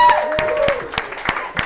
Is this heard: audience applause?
yes